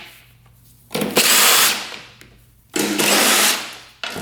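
A power tool spins out bolts on a three-wheeler that is being taken apart to reach the carburetor: two loud, close whirring bursts of about a second each, separated by a short pause, with a third starting at the end and no talking.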